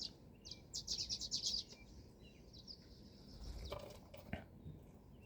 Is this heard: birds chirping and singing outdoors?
yes